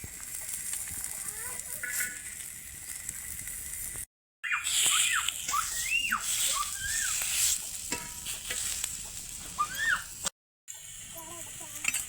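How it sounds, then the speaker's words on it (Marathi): A spice mix of coconut, dal, chilies, onion and garlic roasts in a pan, soft sizzling with repeated scraping stirs close by, fairly quiet throughout with a couple of short breaks. "सगळा मसाला भाजून घ्यायचा आहे खोबरं झालं का डाळ ते मिरच्या कांदा लसूण"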